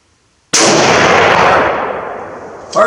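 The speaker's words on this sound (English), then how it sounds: "let me shoot one more" A single loud, sharp crack from a Russian Mosin Nagant M91/30 PEM sniper rifle at close range, followed by a long fading rumble of echo and then a brief faint knock.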